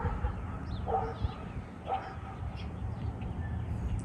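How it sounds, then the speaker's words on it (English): Neighborhood dogs barking in a suburban yard, a few faint distant yaps rising over steady outdoor background noise, with no talk. "See, even the neighborhood dogs are mad about it."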